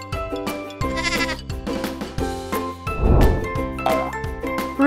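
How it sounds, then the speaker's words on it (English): Several loud, close bleats from a goat, wavering cries in quick succession with a faint bell-like jingle between them. "Goat."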